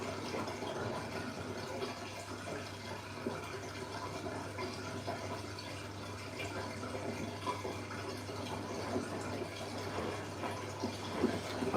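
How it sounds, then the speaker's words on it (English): Drain water from a Siemens WG46H2AXG washing machine running into a sink during a cotton 60 cycle, a steady rushing and filling gurgle with a low continuous hum underneath, even in level throughout with no voices. "this noise for the drain, basically the water going into the sink"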